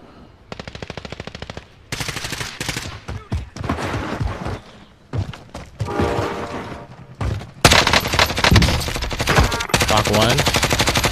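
Rapid automatic gunfire from the Warzone video game crackles in long, loud bursts with short gaps, dense and close, with voices talking briefly between volleys.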